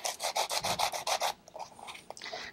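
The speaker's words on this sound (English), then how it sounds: "I'm just going to continue sanding until I get the desired effect" Sanding block rubbed across embossed sheet metal in about nine rhythmic, close strokes, each a loud rasping sweep, then quieter scattered scraping and light handling noises.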